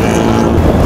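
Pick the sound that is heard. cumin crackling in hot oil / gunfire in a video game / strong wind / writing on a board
strong wind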